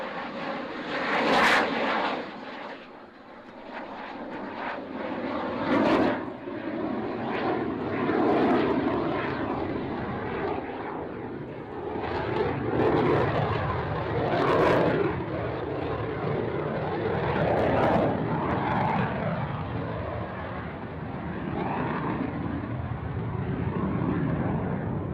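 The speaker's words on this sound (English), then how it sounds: "right now the wonderful Gripen" Saab Gripen jet aircraft passing at a distance, a steady rushing engine roar that swells and fades across a broad, airy wash, fairly faint and with no voices.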